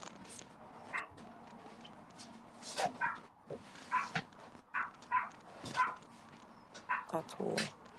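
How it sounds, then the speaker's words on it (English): A little chihuahua next door lets out quick, sharp yips, faint and off at a distance, repeating irregularly while voices carry on talking. "Well, that's my neighbour's little chihuahua."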